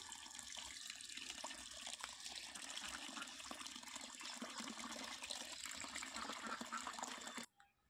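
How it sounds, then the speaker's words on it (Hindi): Cut beef pieces are washed under cold running water, a steady close splashing gush from a tap into a vessel that continues for about seven seconds, then cuts off. "अभी ठंडे पानी से साफ़ करके धो के दूँगी"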